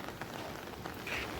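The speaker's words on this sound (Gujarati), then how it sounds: "જો વરસાદ" Rain patters steadily on a surface in a soft, continuous hiss, faint and brief, with a few scattered drops standing out.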